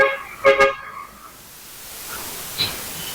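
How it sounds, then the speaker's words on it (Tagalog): Road traffic in Intramuros, Manila: two quick car horn toots close by, then a quieter spell of passing vehicles and one more faint horn blip farther off. "Tuloy-tuloy pa rin ang daloy ng mga sasakyan."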